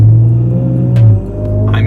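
A giveaway truck's engine revs and rumbles up close, a steady low drone that swells and then eases back, with no talk over it.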